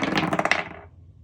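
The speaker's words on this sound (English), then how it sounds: "Let's do the astral dice really quickly and see what date is going to be important for you guys." Astral dice roll and clatter to a stop, a short bright rattle of several small hits that fades out within about a second.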